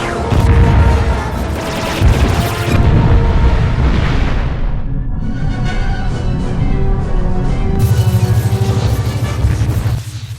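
In Star Trek: Invasion, a torpedo strikes with a loud, close, booming explosion. The rumbling blast rolls on for several seconds, fades briefly and then swells again with another burst.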